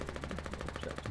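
A basement gunner in the war game Foxhole fires a machine gun: a rapid, even stream of shots over about a second, loud and close.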